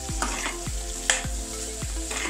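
Tinda sabzi with coarsely crushed black pepper frying in a pan makes a constant close sizzle, with a spoon scraping through it in regular strokes about every half second.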